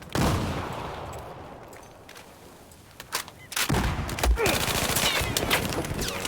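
Gunfire in the video game Battlefield 4, with scattered sharp shots and bursts over a rumbling battle background, louder near the end.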